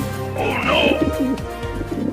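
A cartoonish pigeon coos in a few warbling, throaty notes, steady and close, with a soft background hum.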